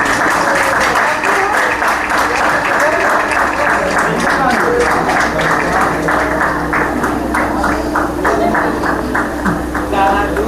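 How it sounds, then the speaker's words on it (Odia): A wedding crowd applauds to welcome the couple at a Christian marriage ceremony, with dense, sustained clapping close by and a steady hum beneath, voices mixed in. "ଆମେ ସମସ୍ତ ଉଚ୍ଚ କରତାଳ ଦେଇ ସ୍ୱାଗତ ଜଣାଇବା"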